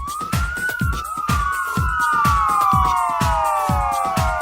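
A police car siren wails outside, its rising and falling tones sweeping loudly over a steady thumping beat of party music.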